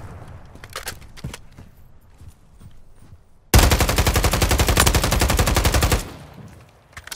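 Video game shooter gunfire: a sudden loud sustained burst of rapid automatic fire lasting a couple of seconds, preceded by quieter scattered shots and background game noise.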